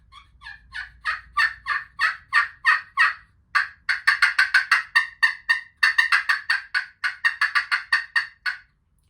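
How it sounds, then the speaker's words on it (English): A wild turkey hen calls in a long, steady series of sharp yelps, close to moderately distant, rising into a faster, denser run midway through, alone outdoors with no talking. "Now I hear another hen."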